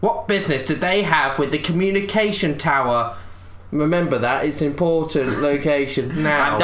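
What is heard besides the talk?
No everyday noises stand out.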